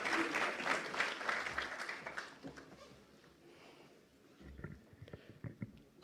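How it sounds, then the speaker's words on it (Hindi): Audience at a chamber event in India applauding to welcome a speaker, clapping fairly soft and distant at first, fading out midway, then a few scattered claps return near the end. "एक बार जोरदार तालियों के साथ उनका अभिनंदन।"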